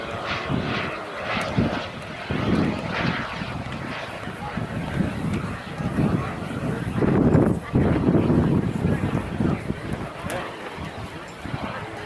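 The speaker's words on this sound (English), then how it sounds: "he's setting up for a downwind leg coming into a landing." A fixed-wing airplane flies a downwind leg while setting up to land at an air show in Elkhart, its engine droning steadily at middle distance with wind buffeting the microphone throughout.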